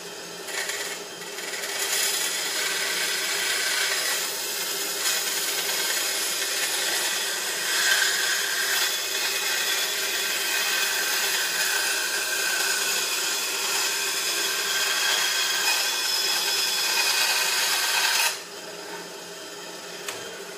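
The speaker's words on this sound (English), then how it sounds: "I'm gonna use bandsaw again on this just because we are on a time frame." A bandsaw cuts a small part for a 1/64 scale California double trailer model, giving a continuous, moderately loud rasping hiss that runs evenly for nearly twenty seconds before dropping off to quieter machine hum.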